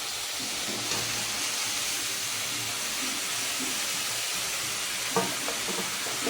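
Vegetables and chopped potato hit a wok of meat with kalmi greens, giving a steady broad sizzle with light scraping and a few small clatters toward the end.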